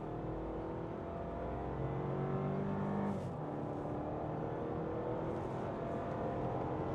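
New Toyota Prado 250 SUV accelerating hard from a standstill to 100 km/h in sport mode, a steady loud engine roar with a rising drone, a gear change about midway, and no talking.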